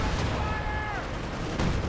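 Artillery fire in Company of Heroes 2, a World War II strategy game, with heavy booming impacts and a brief whistling shell in a short, dense battle mix.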